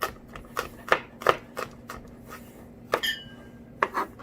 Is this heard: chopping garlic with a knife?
yes